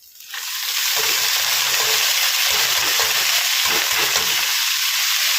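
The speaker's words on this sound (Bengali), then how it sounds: "এখানে পেঁয়াজ কাঁচা লঙ্কাটাও অলমোস্ট ভাজা হয়ে গেছে" Onion and green chili frying in oil before red amaranth leaves go in, a loud continuous sizzle that swells up in the first second and holds steady, with faint scraping stirs beneath, no voices.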